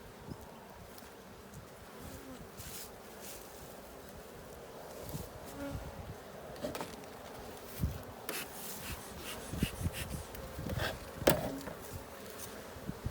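Honeybees buzzing around an opened beehive after winter, a soft, steady hum of many insects close by, with faint scraping and rustling of hive frames mixed in.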